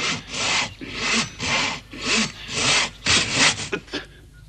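A hand saw rasps through a wooden tree trunk in rhythmic back-and-forth strokes, about eight loud close pulls that shorten and falter toward the end, with no talk.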